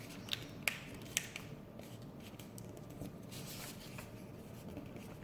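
Paper is creased and folded for an origami crane, giving soft close rustles and a few sharp crisp snaps and scrapes against a quiet background.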